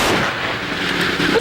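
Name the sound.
21-gun salute gunfire at police funeral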